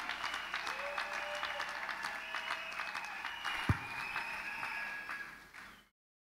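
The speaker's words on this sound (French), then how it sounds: "sous nos applaudissements bien sûr." A wedding crowd applauds steadily during a church blessing, a moderately distant, even wash of clapping with one sharp thump that fades out after about six seconds.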